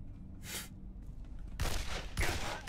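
Gunfire from an armed enemy in the video game Condemned: Criminal Origins, a couple of heavy broadband shot bursts, one early and two louder blasts near the end, over a low rumbling game background.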